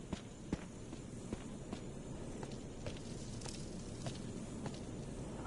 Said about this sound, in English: I love this sound of the footsteps on like kind of like the wet steps.